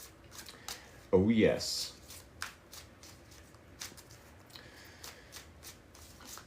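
A tarot card deck is bridge-shuffled, a quick burst of riffling card flutter rising near the start and dying away within about a second, close and fairly loud, with a brief spoken exclamation nearby.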